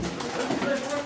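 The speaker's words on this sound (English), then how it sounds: "I'm terrified of pigeons." Pigeons coo softly inside a derelict eye infirmary building. The brief, faint calls sit in a noisy, echoing background.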